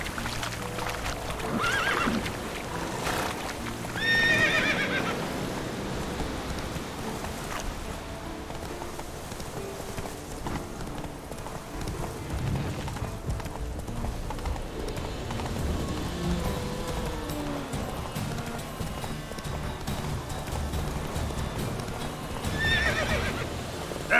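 Roach the horse gallops in The Witcher 3, with steady clip-clop hoofbeats running throughout and loud whinnies near the start and end, over a game soundscape.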